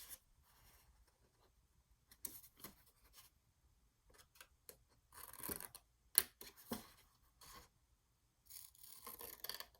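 Cardboard pieces being cut out of a box for a holiday chocolate treat box, heard as short, separate snips and scrapes of blade on board that come in bursts with pauses between, close and fairly quiet.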